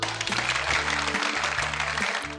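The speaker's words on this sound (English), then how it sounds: "Applaud yourself if you think it might be someone you know." Applause from a party audience at a baby shower, a steady wash of clapping hands that stays loud and close from start to finish with no voices over it.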